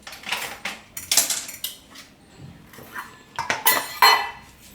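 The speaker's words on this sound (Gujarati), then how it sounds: "બટેટું અને ગાજર બેની આપણે છાલ કાઢી નાખીશું." Potato and carrot being peeled in a home kitchen, heard as close, bursty scraping and clinking of a peeler and utensils against dishes, in uneven strokes with short pauses.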